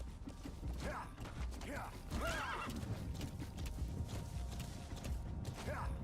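Horses in the Metal Gear Solid V game whinny several times over a steady clip-clop of hooves, with faint creaking tack underneath; the neighs rise clearly above the busy hoofbeat bed, fairly close.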